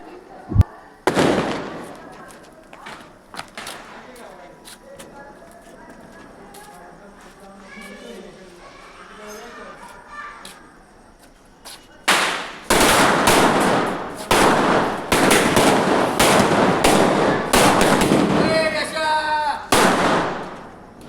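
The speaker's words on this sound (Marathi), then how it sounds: "पहिला फटाका आता इथे माळ वाजवले" A string of Diwali-style firecrackers set off outside in a residential colony, bursting in a long loud rapid crackling barrage after quieter scattered pops, with people talking nearby before the chain ignites.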